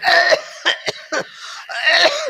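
Several sharp coughs burst out in quick succession from an imam in a mosque, loud and close, with short pauses between them and a longer rough cough at the end.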